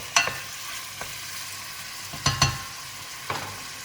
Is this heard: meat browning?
yes